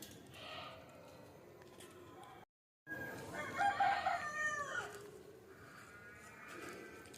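Country chickens and a rooster at a coop at morning opening time: a rooster crows clearly mid-clip over scattered clucking and farmyard murmur, with a brief dropout just before the crow.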